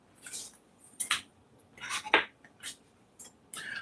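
Metal cutlery clinks and rattles in a home kitchen while a spoon is fetched for stirring a simmering soup, a series of short, faint, bright taps scattered over a few seconds.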